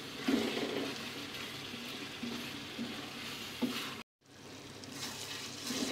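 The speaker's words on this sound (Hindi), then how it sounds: "थोड़ी सी देर इसको भूनेंगे ताकि मसाला जो है वो अच्छी तरह से ऑयल के साथ और चिकन के साथ फ्राई हो जाए।" Chicken and masala sizzle steadily in hot oil in a karahi, a dense continuous hiss with a few soft knocks, briefly cutting out for a moment before the frying resumes.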